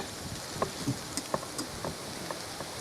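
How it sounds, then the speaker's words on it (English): Light rain patters outdoors, scattered drops ticking against a soft wash of steady background noise. "It's starting to rain."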